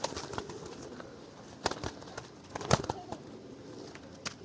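Pigeons flapping their wings nearby, sharp bursts of wingbeats breaking out irregularly, with a louder clatter in the middle, over a quieter background rustle.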